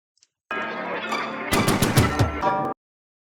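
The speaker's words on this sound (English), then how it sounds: "It's just a way simple fill, just like gunshots and just like these storms." A short burst of rapid, punchy gunshot-like hits used as a fill in a dark trap beat, layered over a sustained musical tone, ending abruptly after about two seconds.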